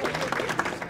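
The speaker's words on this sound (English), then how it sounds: "A round of applause" An audience at a congressional breakfast event applauds in a brief burst of scattered clapping, with voices mixed in.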